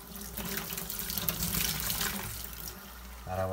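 Tap water runs steadily while a car radiator is rinsed out, a close splashing flow that shifts in pitch near the end, with someone speaking briefly over it.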